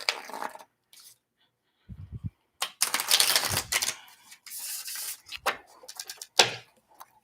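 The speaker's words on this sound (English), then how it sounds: "I'm gonna do one last shuffle" Close, crisp riffling and tapping of tarot cards being shuffled in irregular bursts, separated by brief quiet pauses.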